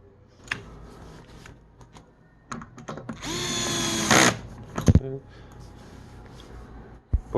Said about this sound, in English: You can drill the hole.